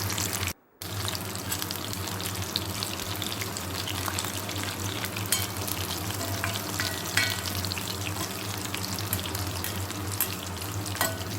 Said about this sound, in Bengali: এখন এগুলো উপরে একটু তেল দিয়ে দিচ্ছি, তাহলে উপরটা একটু ভাজা ভাজা হবে